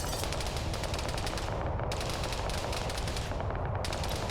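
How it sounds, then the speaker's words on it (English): Sustained video-game gunfire, a dense continuous barrage of machine-gun bursts with a gunner returning fire, loud and unbroken for the whole stretch with brief pauses in the high crackle. "And that gun is returning fire."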